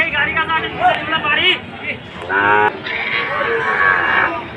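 Cattle, including Sahiwal cows and bulls, low and bellow amid a noisy crowd at a livestock market in Panchbibi, with people talking nearby throughout.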